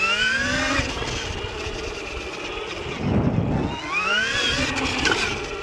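An Electric Motion Epure Race electric trials bike whines as it accelerates, its motor pitch sweeping upward in two separate bursts, fairly faint against outdoor background noise.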